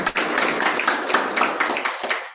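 Audience clapping at a Srimad Bhagavatam saptaham gathering, a brisk, close burst of many hands clapping with a loose rhythmic pulse, continuous for a couple of seconds.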